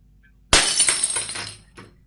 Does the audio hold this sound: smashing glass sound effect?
yes